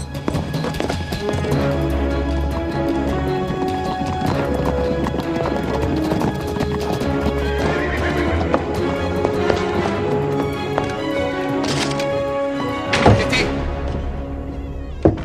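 Horses clip-clopping steadily throughout over a dense background of music and ambient sound, with a possible whinny near the end.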